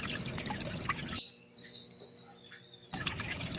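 Water drips and trickles from a leaking pond, with soft, uneven drops in a quieter middle stretch framed by louder splashing water, and faint bird calls in the background.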